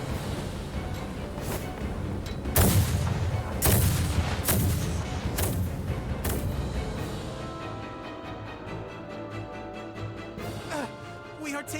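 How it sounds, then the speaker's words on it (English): Heavy artillery bombardment from an enemy naval battalion in the video game Star Ocean The Divine Force, with loud booming blasts repeating irregularly over a dense, rumbling battle din. "are taking massive fire from the Empire's naval battalion. Their unceasing bombardment is laying waste to our forces."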